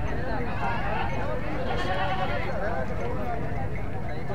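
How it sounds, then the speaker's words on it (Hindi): Goats bleat among a crowd at a busy goat market in Hazro, Attock, with bleats rising over constant nearby bargaining chatter and general market bustle. "ये जबरदस्त बकरा है"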